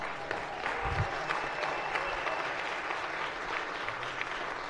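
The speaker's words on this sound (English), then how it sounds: "We can give an applause for that." An audience claps steadily in a Senate floor session, moderate and a little distant, holding an even level throughout with one brief low thump near the start.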